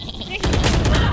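Rapid gunfire in a tactical shooter video game, a loud burst of automatic shots rattling through the second half right after a quieter moment, with a voice speaking over it.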